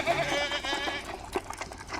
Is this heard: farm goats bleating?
yes